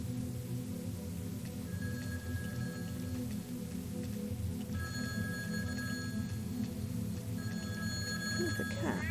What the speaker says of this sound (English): I don't like the sound of a ringing phone